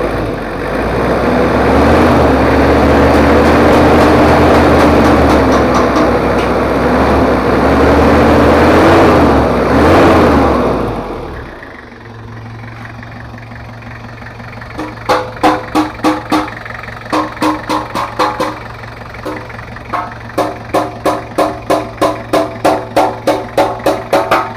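A freshly assembled Toyota 2L diesel engine from a Kijang runs loud and rough for about ten seconds, then settles into a quieter, steady idle with a rhythmic knocking pulse, close by and with no talking.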